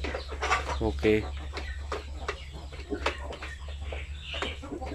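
Purebred Sampin chickens cluck in a busy, uneven series of short calls close by, some rising into sharper squawks, while a person talks over them and a steady low hum runs underneath.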